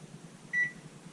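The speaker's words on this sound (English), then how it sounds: "now this goes in the oven, in the microwave here." A single short, clear electronic beep from a microwave oven over its faint, steady hum, close by in a quiet kitchen.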